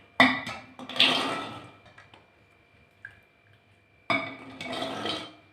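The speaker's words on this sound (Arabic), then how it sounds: "هنشيل الفول وهنحطه في القدر" Soaked fava beans drop into a metal cooking pot in two bursts, each a loud clatter of many small knocks and rattles, with a quiet pause between.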